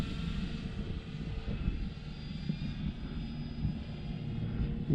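A Dynam Tiger Moth RC biplane flies in a gusty crosswind over a park, its small motor droning steadily at moderate distance and rising slightly as the throttle is increased through turns, with wind rumble underneath.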